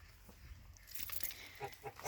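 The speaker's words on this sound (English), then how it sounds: "geese everywhere." Geese on a farm in the rain give a few short, faint honking and clucking calls toward the end, over a low background rumble.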